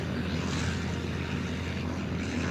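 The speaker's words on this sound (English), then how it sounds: "the tiny planes would rev their engines as they hung from a metal bar called the trapeze" Small propeller planes rev their engines while hanging from a metal trapeze beneath an airship, giving a steady, loud, droning engine roar throughout with no break.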